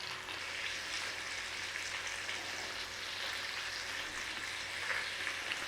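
Pork chops pan frying, a steady, even sizzle and crackle of hot fat filling the whole stretch without pause, moderately quiet and heard alone.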